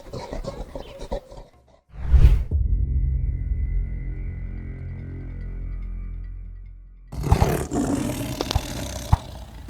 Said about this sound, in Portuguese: Os tigres são animais mamíferos e carnívoros